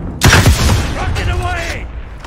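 A video game rocket launcher fires with a loud, close whooshing blast, followed by a rushing burst of explosion noise that fades off.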